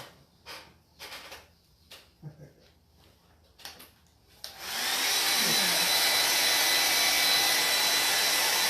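A hair dryer drying paint on a faux shiplap sign switches on after some light handling knocks and then blows in a loud, steady roar close by.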